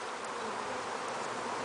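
Honey bees buzz steadily around an open hive colony during frame inspection, a dense continuous droning hum, close and even throughout with no talk.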